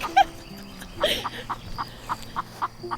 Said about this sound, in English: Alright, chickens chatting with barn cats.